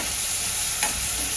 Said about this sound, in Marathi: कांदा आपला मऊसर झाला आणि रंगही बदलला.